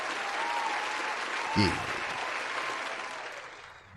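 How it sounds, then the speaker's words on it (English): A crowd applauds with steady hand claps throughout, loud and continuous, while a voice cuts in briefly partway through. "Get some hand claps on this bitch."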